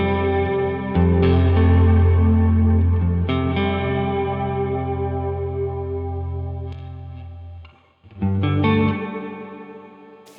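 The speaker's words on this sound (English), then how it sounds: "Modulated adds that tremolo effect to it." Electric guitar chords through a Keeley Caverns V2 pedal on its modulated reverb setting ring out with a shimmering, wavering tremolo-like reverb tail, strummed several times with pauses, the wash pulsing gently as notes decay.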